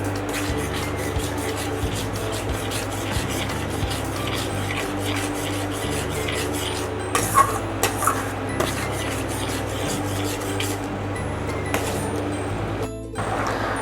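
A whisk scrapes and rubs rhythmically against a bowl as butter is beaten into a curd and chocolate mixture, steady close strokes with occasional clinks, no voices over the repeated scraping.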